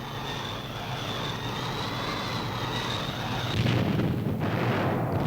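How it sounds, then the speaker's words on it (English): WWII Stuka dive bombers and Me-109 fighters attacking Allied supply craft in a harbor, heard as a loud, steady droning aircraft engine roar with a rising tone, then rumbling blasts that grow heavier near the end, with no voices. "Stukas and Me-109s came to bomb Allied craft landing supplies in the harbor"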